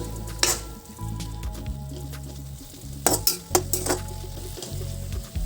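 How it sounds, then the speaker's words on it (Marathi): A spoon stirs red amaranth greens with grated coconut in a pan, giving a soft steady sizzle broken by sharp metallic clinks of utensil against the pan at irregular moments. "थोडंसं खोबरं भुरभुरायचं आणि एकदा खालीवर करून घेऊया।"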